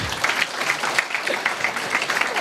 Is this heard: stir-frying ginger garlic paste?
no